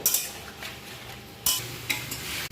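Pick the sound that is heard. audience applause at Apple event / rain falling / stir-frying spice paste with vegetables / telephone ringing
stir-frying spice paste with vegetables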